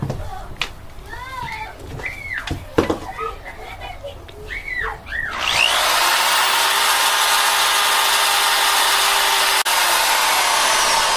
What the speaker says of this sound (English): And I'll drill through this first and then into the steel.